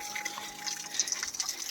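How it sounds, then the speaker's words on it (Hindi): Water flows steadily from a pipe at a mountain spring near a Himalayan temple in Uttarakhand, a close, continuous splashing trickle with bright droplet sparkles and no talking. "ये देखिए पंदेरे में पानी है।"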